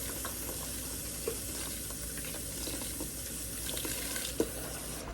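Water from a tap running steadily into a sink while an item is rinsed under it, a constant close hiss with a couple of small clunks, no voices.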